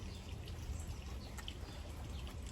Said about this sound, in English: So now I'm just going to water it in.